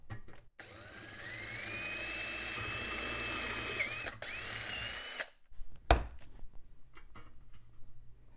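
A power drill with an oversized bit bores out a hole during a computer tower case repair, a steady whining drone for several seconds, close, followed by a pause and scattered handling clatter.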